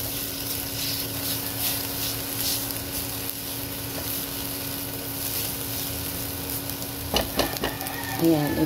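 Fried rice sizzling steadily as it browns in a pan for chowfan-style breakfast, a continuous frying hiss with occasional stirring scrapes louder toward the end.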